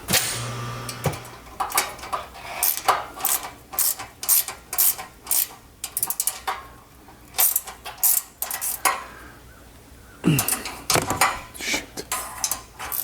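A ratchet tightens exhaust bolts under a Porsche GT4 during an over-axle pipe exhaust install. It gives sharp, close, repeated clicking bursts in irregular rhythm, with brief pauses between them.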